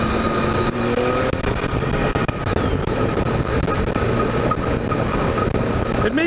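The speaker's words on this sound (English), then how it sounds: "It's got a throaty rumble to it, not a deep rumble" A Triumph Tiger 800 motorcycle engine runs with its factory muffler, a loud, steady, throaty rumble close by that holds a constant drone throughout with no talking.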